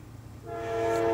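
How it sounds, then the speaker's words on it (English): A train approaches and its horn starts sounding, a sustained tonal blast that swells from quiet rumble to loud within about a second. "Got a train coming, of course."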